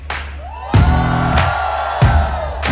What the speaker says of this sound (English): A big round of applause, ladies and gentlemen, to the panel on stage.